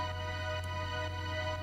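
Hybrid String 2, a string preset in the Nexus synth, sustains a soft, unchanging chord over a low steady hum, quiet and even throughout.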